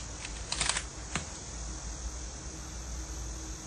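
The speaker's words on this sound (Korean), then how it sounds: "키보드의 탭키를 이용하여" Keys tapped on a computer keyboard while working in a naming-program form, a short cluster of light clicks followed by a single isolated press, then a quiet steady hum.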